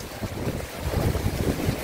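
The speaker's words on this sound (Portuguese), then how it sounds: "Olha aí a força do vento aí" Strong wind gusts through a rainy night in Saboeiro, Ceará, a rough, buffeting rumble that swells and fades against the microphone, with no voices.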